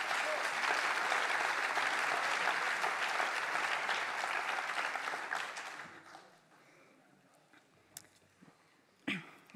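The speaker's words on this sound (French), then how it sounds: "Sous applaudissements, s'il vous plaît." Audience applause at the opening session of a national congress of an elderly-care directors' federation, loud and sustained for about six seconds before fading to scattered claps and room noise.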